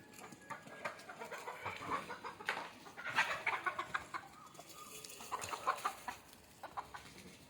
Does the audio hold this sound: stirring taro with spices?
no